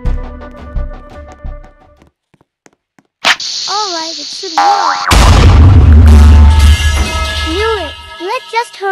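A TNT blast in a video game, a sudden loud boom that bursts in mid-clip and roars on for a few seconds, with game sounds and musical tones before and after it.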